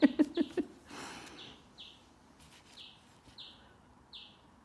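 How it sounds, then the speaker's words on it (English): A small bird outside a window chirps repeatedly in quick, evenly spaced tweets, faint and a little distant, after a few soft knocks at the start. "I don't know if you can hear the bird having a good old cheep out the window"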